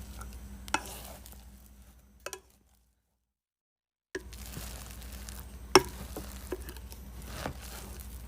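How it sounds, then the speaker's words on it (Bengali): Fried chicken pieces are stirred into cooked spices and tomato sauce in a pan for potato chicken curry, giving a soft sizzle with scraping and a few sharp utensil knocks, interrupted by a brief silent gap. "মশলার সাথে মুরগিগুলোকে ভালো করে মিশিয়ে নেব।"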